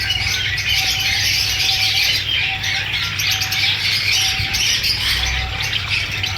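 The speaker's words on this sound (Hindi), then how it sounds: "ये बेंगलीज हैं।" Caged Bengalese finches at an outdoor Sunday bird market in Bahawalpur give a dense, continuous chorus of high chirps and tweets, with occasional wing flaps and squawks, under steady crowd background noise.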